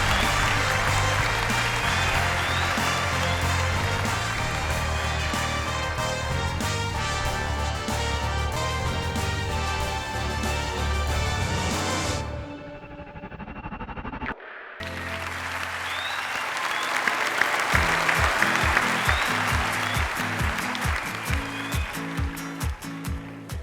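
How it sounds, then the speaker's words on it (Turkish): A studio audience applauds and cheers on the Turkish talent show O Ses Türkiye during a duel round, starting after loud stage music cuts out and swelling with a rhythmic beat under the crowd noise. "Alkışlarınızla Mustafa ve Vafa geliyor."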